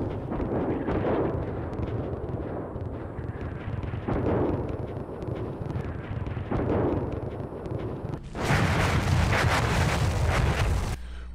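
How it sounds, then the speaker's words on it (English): Artillery rounds slam into a vehicle convoy in the tank simulator Steel Beasts Pro: continuous loud, rumbling blasts and roaring debris noise, with a harsher, brighter burst of impacts near the end. "the rounds are on target for at least some of the convoy"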